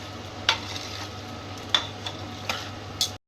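Chicken with turmeric fries quietly in a pan under a soft, steady sizzle, broken by four sharp scraping clicks of a utensil spaced about a second apart.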